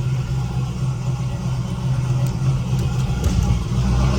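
A big-turbo LS-swapped Camaro IROC runs steadily throughout, a loud, low, even engine drone with no voices over it.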